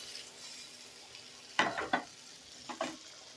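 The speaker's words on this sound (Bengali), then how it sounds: "এবার আমি এখানে জলটা দিয়ে দেব।" Water poured into a pan of frying pomfret fish for a curry sets off two short bursts of sharp sizzling hiss over a quiet background of gentle frying.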